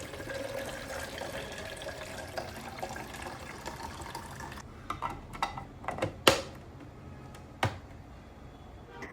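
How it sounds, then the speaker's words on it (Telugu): Water running into the tank of a Costar Cosmost 5 Pro coffee machine, a steady close trickle that stops halfway and gives way to a few sharp plastic clicks and taps. "Firstly I'm filling the water in the tank."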